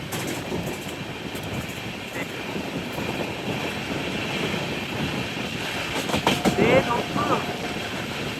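Himsagar Express rolling along a curving stretch of track, a steady broadband rumble of wheels and carriages with faint rhythmic clatter and a brief squeal near the end, heard from inside the train.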